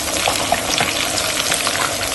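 Chopped onion sizzles steadily in hot oil in a wok, a dense, even frying hiss close by that carries on without pause and with no voices.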